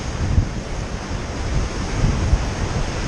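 Whitewater rapids on the Kicking Horse River rush steadily around a raft, a loud continuous roar of churning water mixed with wind noise, with no talking.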